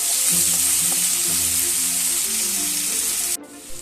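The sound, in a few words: onions frying and sizzling in a pan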